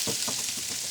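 Sliced Gala apples frying in avocado oil in a pan, a steady close sizzle with soft repeated crackles and stirring scrapes through the short moment, no talk.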